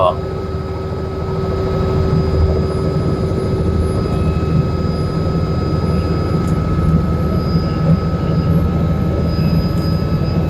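A helicopter lifts off from the ground, heard from inside the cabin as a loud, steady turbine and rotor drone with a constant whine that holds throughout. Voices talk faintly under the engine noise.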